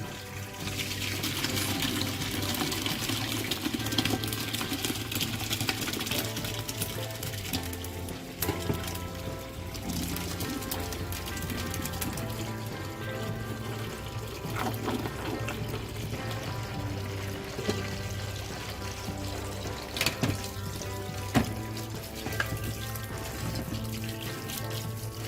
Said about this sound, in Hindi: ऊपर से टैप खोल देंगे